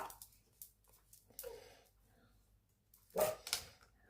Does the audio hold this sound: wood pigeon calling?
no